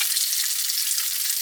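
Bacon sizzles and spits steadily in a frying pan, a dense, even crackle of hot fat that stays loud and unbroken throughout, with no voices over it.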